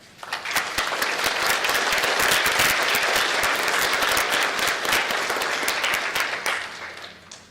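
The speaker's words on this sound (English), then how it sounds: "with a round of applause, please" Audience applause at a high school graduation ceremony, loud sustained clapping from many people that swells in quickly, holds strong, then fades out near the end.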